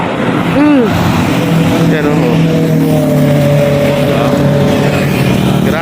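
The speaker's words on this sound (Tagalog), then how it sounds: "Ang dami sasakyan dito sa C6" Heavy road traffic on C6 rumbles and drones steadily nearby, with engines rising and falling as vehicles pass, while a person speaks briefly over it.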